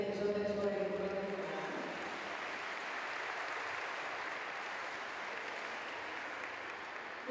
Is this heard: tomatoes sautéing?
no